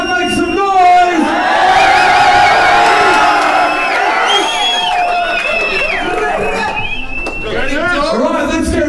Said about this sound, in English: All right, crowd, make some noise.